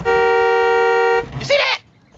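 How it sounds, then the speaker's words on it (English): Car horn honking in one loud, sustained, steady blast lasting over a second, followed by a brief vocal sound up close. "when I inhale, my chest make the horn honk"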